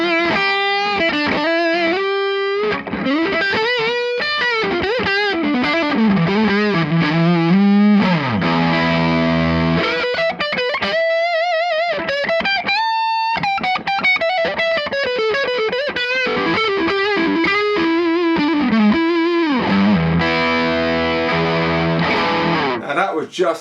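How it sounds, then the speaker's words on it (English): An electric guitar plays through an amp alone with the gain turned up and the EQ adjusted, giving a thick, sustained distorted tone in a continuous run of riffs and bends, loud and upfront with no talk. "Now let me just put a bit more gain and change the EQ around a little bit."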